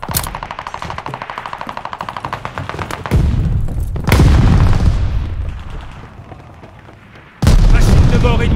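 Rapid automatic gunfire in Call of Duty: Vanguard multiplayer, a steady rattling burst followed by heavier booming blasts and thuds, loud and close, with no one talking.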